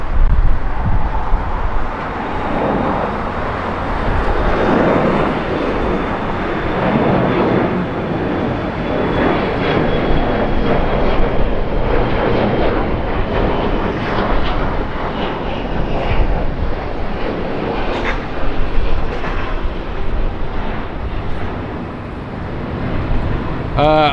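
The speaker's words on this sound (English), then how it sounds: "got our Aloha Air 767 over there breaking through the clouds. They're next for arrival" An Aloha Air Boeing 767 arriving at Los Angeles International Airport, a steady loud jet engine roar filling the whole stretch, with a commentator talking over it at the plane-spotting spot.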